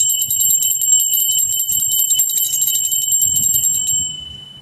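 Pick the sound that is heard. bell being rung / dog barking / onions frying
bell being rung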